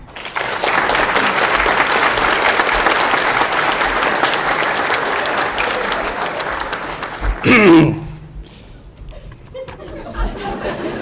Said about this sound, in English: give a warm round of applause for our 2018 guest speaker, Mr. Paul